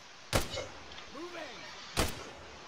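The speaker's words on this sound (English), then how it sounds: "What are you shooting at?" Two sharp gunshots ring out in the ARMA 3 military game, spaced well over a second apart, each a loud close crack with a short tail, with a faint whistling sweep between them.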